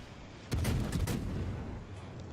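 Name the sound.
naval artillery fire in World of Warships video game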